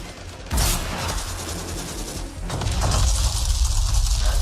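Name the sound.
gunfire in Anthem video game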